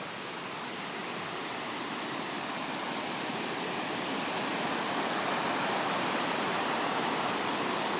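A swollen burn at Bannockburn, Stirling, Scotland, running high like a river, fills the air with a loud, continuous broadband rush of water that holds steady and unbroken throughout.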